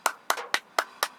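Five sharp hand claps at an even pace, close and fairly quiet, with no voices.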